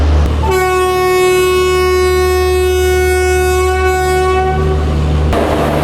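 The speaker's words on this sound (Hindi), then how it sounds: "अर्ली मॉर्निंग रेलवे स्टेशन का जो माहौल होता है वो एक अलग ही होता है" Indian Railways station in the early morning before a double-decker express from Ahmedabad, with a loud, sustained train horn blaring for several seconds over a steady low rumble of idling rail equipment.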